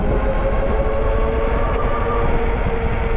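A steady, loud mechanical whir with a constant hum from an Ariel Rider Grizzly electric bike's front hub motor spinning at even speed close by, with no voices.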